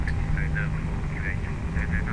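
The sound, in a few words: Toliss A319 jet engines spooling up in X-Plane 11 video game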